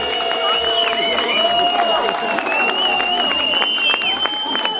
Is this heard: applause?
yes